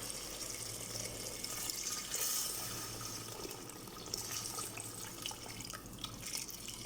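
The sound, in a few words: boiling water being poured into a pot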